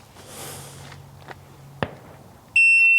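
Electronic shot timer buzzer on an outdoor shooting range gives one loud, steady high-pitched beep starting near the end, after quiet ambient noise and a single sharp click.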